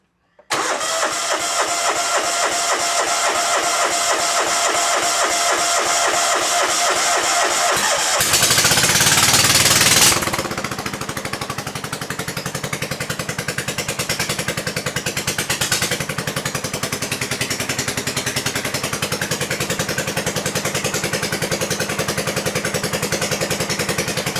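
An old car engine that has been sitting unused for a long time cranks with a rapid rhythmic churning, catches with a loud roaring flare, then settles into a steady, loud idle heard up close.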